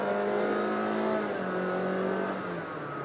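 A Honda City sedan with a CVT accelerates under steady throttle, its engine drone holding a smooth rising tone without gear-shift breaks, close and continuous for about three seconds with no talking.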